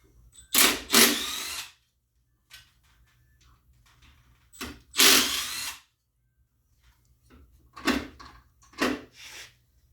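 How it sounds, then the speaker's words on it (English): Impact wrench spinning out 8mm engine bolts during an engine teardown, short loud whirring bursts in pairs with quiet gaps and light handling clatter between them. "5 bolts that are going to be 8mm to take out, which we can just simply use our impact"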